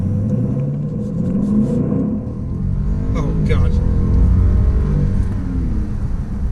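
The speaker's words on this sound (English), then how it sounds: "Engine makes a good noise." A deep twin-turbo V8 roar builds as a 2015 BMW 650i Gran Coupe xDrive accelerates hard, heard from inside with a loud rumble; a voice briefly exclaims partway through.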